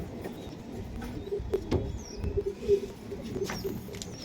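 Pigeons kept as breeding stock at a high-flyer loft coo softly in a low rolling murmur, several overlapping calls spread across the moment with faint rustling in the background.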